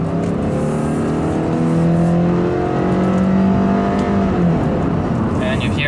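A 2018 Subaru Impreza 2.0i AWD accelerating onto a highway, its engine droning and rising steadily in pitch from inside the cabin, with road and wind noise underneath and a voice speaking over it.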